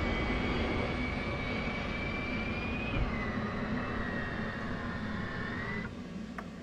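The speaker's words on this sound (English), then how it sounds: "start the APU" Auxiliary power unit of an F/A-18 spinning up in the DCS flight simulator, a steady whining turbine tone with a broad rushing roar that shifts pitch partway through, heard alone at moderate level.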